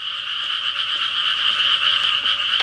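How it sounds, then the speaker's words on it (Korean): A crowd of frogs gathered at a pond croaks loudly and without pause, a dense close chorus of rasping calls with no voices present. "옥문지에 개구리들이 모여들더니 사나이를 두고 시끄럽게 울어댔다."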